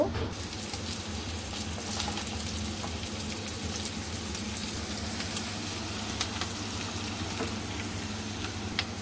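Eggs, green chilies and onion leaves fry in a hot pan with a steady, loud, close sizzle that runs unbroken throughout, with a few faint scraping ticks of stirring.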